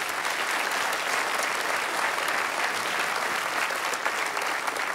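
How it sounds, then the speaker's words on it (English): A church congregation breaks into steady, full applause that fills the room evenly throughout, a dense wash of many hands clapping with no pauses. "Now you can clap."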